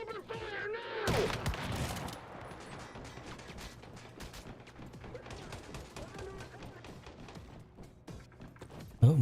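Gunfire in the survival shooter Once Human, a burst of rapid shots and crashes up front, then a long stretch of scattered, crackling distant fire with faint voices under it and a sharp hit at the end.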